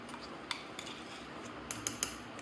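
A spoon stirs a coconut and sugar sweet mixture in a metal pan, making quiet scraping with a few sharp clinks against the pan's sides toward the end.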